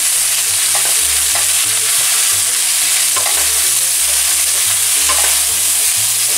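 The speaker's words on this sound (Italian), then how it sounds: "Un pizzico di sale subito, che così aiuterà i nostri peperoni a cuocere prima. Diamo una bella mescolata." Bell peppers seasoned with a pinch of salt fry in a pan with steady loud sizzling, while a utensil stirs them in repeated scraping strokes throughout, with no voices.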